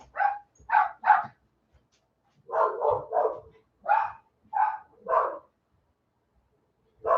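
A dog barks repeatedly nearby, loud sharp barks in short clusters of two or three, spaced by quiet pauses, with no talk in between.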